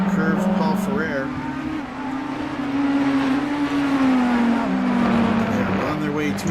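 GT3 and LMDh race cars in a racing video game at Spa run toward the finish line through Blanchimont, a steady engine whine swelling and sagging in pitch across the whole stretch, with a voice faintly underneath.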